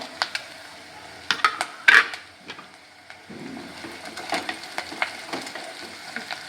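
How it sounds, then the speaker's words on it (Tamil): Onion frying with dried red chilli, ginger, garlic and cashews in a dhaba-style palak paneer butter masala pan, a light sizzle broken by sharp clinks and scrapes of a stirring spoon on the pan. "வெங்காயம் லைட்டாக வளர்ந்ததுக்கப்புறமா நம்ம இது கூட வரமிளகா, இஞ்சி, பூண்டு, அதுக்கப்புறமா கொஞ்சமாக முந்திரி இதெல்லாத்தையும் சேர்த்துப்போம்"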